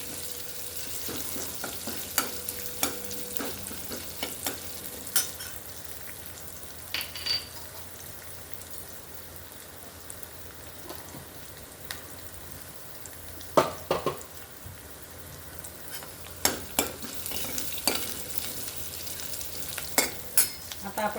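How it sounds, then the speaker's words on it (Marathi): Tempering of garlic, curry leaves, chilli and fenugreek seeds sautéed in a pan, a steady low sizzle broken by irregular spoon scrapes and clinks against the metal, busier in the second half. "खमंगाशी फोडणी आपल्याला परतून घ्यायची"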